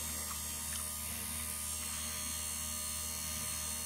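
Mini lathe leadscrew motor running flat out at full speed, a continuous electric hum and high whine, steady and fairly faint with no talking.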